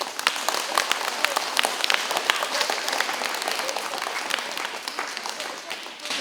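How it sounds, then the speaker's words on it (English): An audience at an elementary school celebration for military-connected youth claps steadily throughout, a moderately loud, even wash of applause with no break. "Can we give a big round of applause?"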